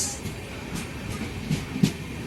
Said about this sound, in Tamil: ட்ரெயின் ஜேர்னி மிக அருமையான ஜேர்னி